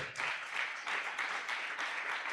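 A church congregation at a Sunday worship service applauds loudly and continuously, a dense sustained wash of clapping with slight rhythmic swells throughout.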